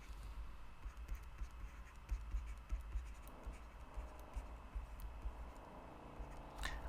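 Marker or chalk scratching across a board while geometry triangles are written out, steady scraping strokes with short pauses, close and moderately quiet with no talk.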